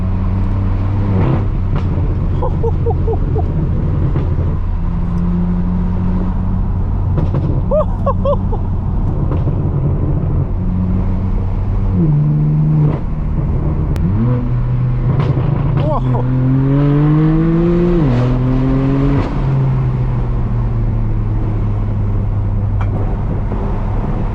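A straight-piped BMW M4 F82 driven fast on mountain roads, its loud raw exhaust rising and falling through repeated hard revs and gear changes, with a voice speaking briefly over it.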